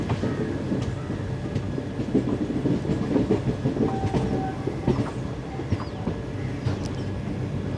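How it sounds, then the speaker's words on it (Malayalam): A Chennai Superfast train (22652) rolls into Palakkad Town railway station with a steady, loud rumble of wheels and carriages, rhythmic clickety-clack on the rails and a brief squeal partway through, with no talk. "നമ്മൾ ജസ്റ്റ് പാലക്കാട് ടൗൺ റെയിൽവേ സ്റ്റേഷനിലേക്ക് എടുക്കുന്നു"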